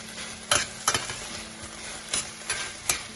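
Butter goes into a hot pan while making apricot filling for içli köfte, a soft sizzle running under several sharp scrapes and stirs of a utensil against the pan, close by with no talking.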